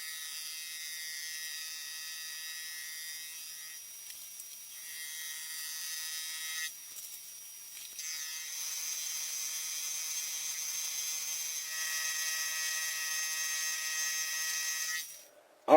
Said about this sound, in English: prop this end up in the vise, and then mill this flat